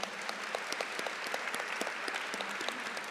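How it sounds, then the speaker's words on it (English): A conference audience at an opening ceremony gives dense, continuous applause, many hands clapping together at a moderate distance and fairly soft, with no voices over it. "kindly join me in giving them one more round of applause"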